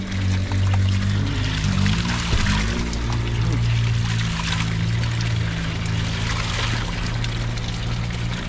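Spring water from a natural village source in Jamaica pours and splashes steadily and close, a continuous bright rushing flow with a low hum underneath and occasional voices faintly in the background.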